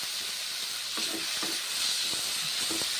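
Fried mourala fish settling into spiced masala in a pan, giving a steady broadband sizzle with a few soft clinks and stirring taps, close and moderately loud, with no talking.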